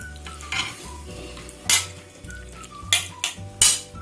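Chicken tikka marinade with yogurt and vinegar is mixed in a bowl, with several distinct scraping stirs and clinks of a spoon against the dish, close and otherwise quiet.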